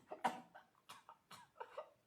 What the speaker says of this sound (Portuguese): coloca a mão na garganta. Comece a tossir.